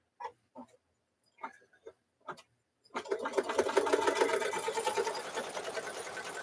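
A few soft handling clicks and thumps, then a sewing machine starts and runs steadily, stitching fabric with a fast, even mechanical chatter close by.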